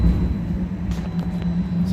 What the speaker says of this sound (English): So we're going for our little ride on the streetcar.